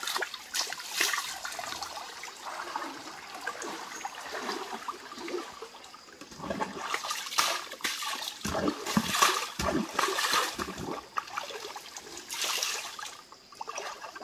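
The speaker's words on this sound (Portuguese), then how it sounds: "um vídeo mais diferente com o Red Bull banhando aqui no corvo" Water splashing and trickling over a dog being bathed in a stream, with a continuous running flow punctuated by louder splashes and pours, close and fairly loud, with no talking.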